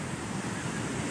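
Sea waves wash on the shore in a continuous broad hiss mixed with wind buffeting the microphone, heard briefly and with no voices.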